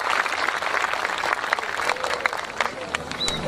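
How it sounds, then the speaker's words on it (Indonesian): A crowd at a religious sermon gathering claps and applauds, a dense burst of hand clapping with a voice heard over it. "Tepuk tangan untuk Semarang"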